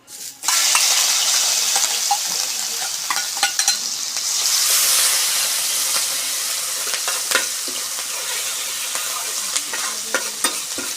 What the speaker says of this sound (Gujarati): તો આ જીરું લાલ થઈ ગયું છે તો તો એમાં આપણે આ લીલા મરચાં અને લસણ જે ખાંડીને રાખ્યું છે એ નાખી દઈશું